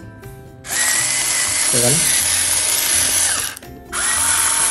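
A Breville electric salt mill whirs loudly as it grinds, running in two long bursts separated by a brief pause, while people talk briefly over it.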